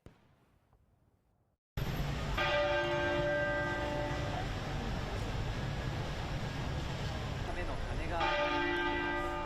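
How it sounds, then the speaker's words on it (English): UK church bells ring out in a loud, continuous peal honoring Queen Elizabeth II, their overlapping tolls layered over a steady wash of background noise after a brief quiet start. "So if you heard those church bells"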